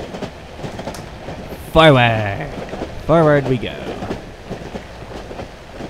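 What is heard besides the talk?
train moving in the video game Cry of Fear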